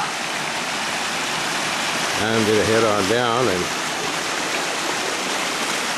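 A small waterfall on a creek keeps up a steady broadband rush of falling water, loud and close, with someone talking briefly over it partway through.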